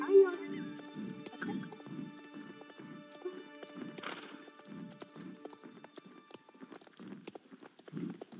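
Rhythmic hoofbeats of a horse in the video game Star Stable Online clop along steadily, with a brief whinny near the start and occasional louder thumps, under a quiet electronic game backdrop.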